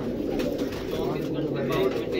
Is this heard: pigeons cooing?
yes